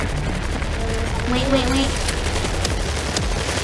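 Gunfire from players shooting zombies in World War Z's Horde Mode: dense, rapid crackling shots layered under constant action noise, with a brief tonal in-game sound near the middle and a voice speaking over it.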